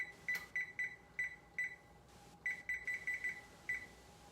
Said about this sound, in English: So I'll set my timer for 12 minutes here